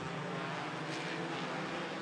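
Bandit class race cars roar together at Rockford Speedway coming out of turn four on the green flag, a dense, steady engine drone heard from a distance with no talk.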